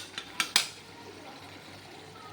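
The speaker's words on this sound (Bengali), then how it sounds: "আলুগুলোকে এভাবে একটু খুন্তিতে করে নেড়ে দিলাম, যাতে আলুগুলো বেশ ঘাঁটা ঘাঁটা হয়ে যায়।" A spatula scrapes and clacks a few times against a pan while stirring boiled potatoes, three or four sharp close knocks early on, then a quiet, faintly hissing stretch.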